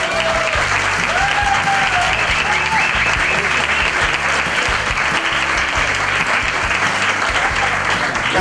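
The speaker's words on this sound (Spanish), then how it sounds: "Así que pido un aplauso para él y para Diego." Audience at a talk by a lawyer applauding, a loud, dense, continuous round of clapping that holds steady from start to finish, with faint voices mixed in.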